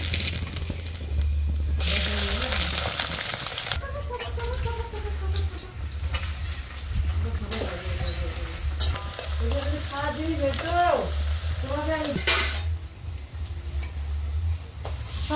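Small bay leaves and a little onion crackle in hot oil for a tempering, a steady sizzle running throughout with bursts of louder spitting and some faint voice-like tones in the background.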